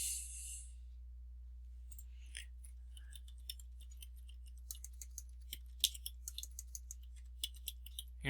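Quiet, sparse clicks of keyboard keys tapping irregularly over a steady low electrical hum.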